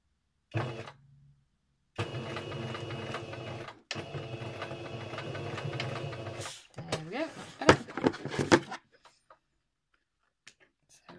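A sewing machine runs back over the opening stitches of a cloth pad to lock them in, whirring in several steady bursts with short pauses, followed by clicks and handling noises before it falls quiet.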